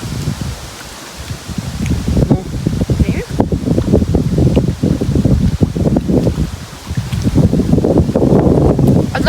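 Strong wind gusts outdoors beside a lake and buffets the microphone in loud, uneven rushes with rustling, continuing throughout the clip.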